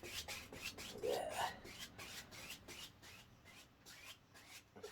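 A paintbrush scrubs white oil paint onto canvas in short, rhythmic rasping strokes, close and soft, repeating steadily with quiet pauses between.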